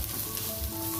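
Tempe gembus frying in a pan with chilies and small dried shrimp, being stirred, a short, quiet continuous sizzle with faint scraping.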